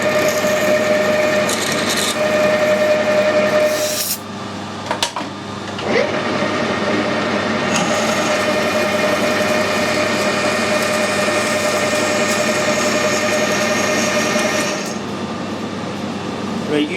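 An aluminium pulley bore being reamed slowly by hand with a half-inch reamer on a mini lathe gives a steady scraping rasp. It runs over a constant machine hum with a brief pause partway through.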